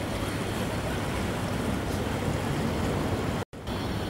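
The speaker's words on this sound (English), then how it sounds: "Here comes a boat, the water taxi." A water taxi boat on the Singapore River at Robertson Quay passes close by, its engine rumbling steadily over broad wash and wind noise. The sound cuts out briefly near the end.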